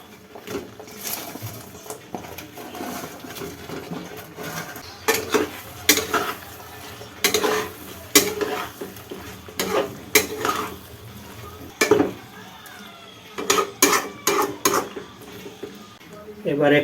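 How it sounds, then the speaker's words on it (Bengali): Fried paneer is added to a spiced masala in a pan and stirred, with a utensil scraping and clanking against the metal in irregular bursts over a soft background sizzle. "এবার এর মধ্যে ভেজে রাখা পনিরগুলো দিয়ে দেবো।"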